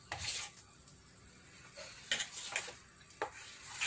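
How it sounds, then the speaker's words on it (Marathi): A spoon stirs carrot cake batter in a bowl, with scraping strokes and light clinks against the bowl edge, close and moderately quiet, in an irregular rhythm. "त्या मिश्रणाला आणखीन चांगलं कालवत आहे."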